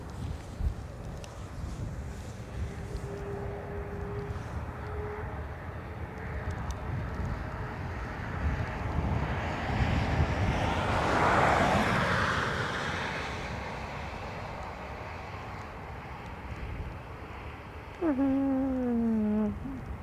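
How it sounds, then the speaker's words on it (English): A Vueling airliner taking off at Dublin Airport, its engine roar building to a broad swelling peak midway and then fading into the distance, with a cat-like mewing near the end. "Already cleared to take off."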